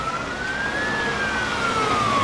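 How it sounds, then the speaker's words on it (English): A loud wailing ambulance siren rises and falls slowly in pitch over a low road rumble, close by and continuous throughout. "Why is there an ambulance?"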